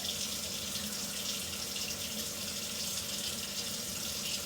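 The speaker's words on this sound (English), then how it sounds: "You can hear the water running in the background." Tap water runs steadily into a kitchen sink over frozen chicken, a constant even rush of splashing with no talking.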